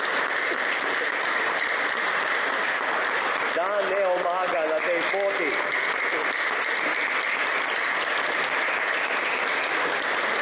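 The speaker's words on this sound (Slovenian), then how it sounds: "Dejte mu en aplavz, da bo dobil malo spodbude" A crowd applauds continuously at an oratory gathering, a steady, even wash of clapping throughout while a voice briefly speaks over it.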